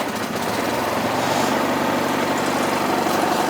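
A Bolens GroundsKeeper tractor engine runs on choke just after a cold start, giving a steady, close, loud, pulsing chug with no breaks.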